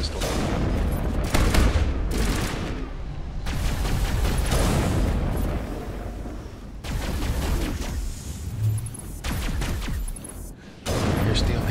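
Energy weapon fire in Mass Effect resembling a Halo plasma pistol, dense loud bursts of shots and booms in a chaotic firefight.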